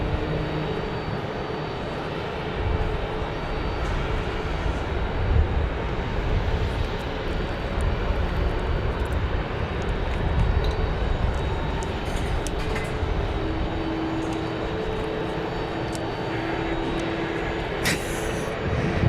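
An American Airlines Airbus A321neo jet at Phoenix airport gives off a loud, sustained engine roar at close range, a dense steady rush that holds for the whole stretch with slight swells.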